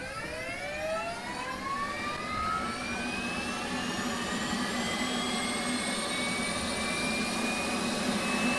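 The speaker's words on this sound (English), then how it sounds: "So let's go ahead and put the APU on." An F/A-18C Hornet's auxiliary power unit spins up in DCS World, a loud continuous jet whine climbing steadily in pitch over a constant roaring rush, with no talk.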